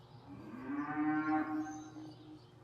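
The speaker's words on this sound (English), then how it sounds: "Yellow cow over there." A single cow moos once at moderate distance, a drawn-out lowing call rising and falling over about two seconds against quiet outdoor background.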